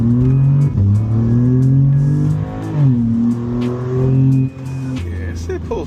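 A 2026 BMW M2 pulls hard from a stoplight, its engine note climbing through revs with a brief dip at a shift before rising again, loud and close inside the car.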